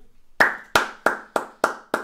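Six separate, sharp claps from one pair of hands, spaced at a slow, even beat, close and crisp against a silent background.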